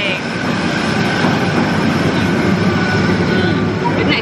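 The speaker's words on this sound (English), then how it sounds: "that's the transit with the what's it called? Electric railway." An electric railway train at Tokyo Disney rumbles past nearby, a loud continuous roll of wheels and clatter that holds steady throughout.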